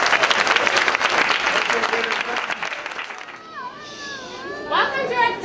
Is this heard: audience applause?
yes